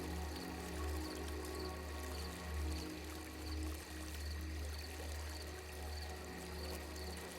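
Water flows steadily in a still, protected garden fountain, a continuous gentle pouring and splashing with no pauses, set against a soft ambient hum.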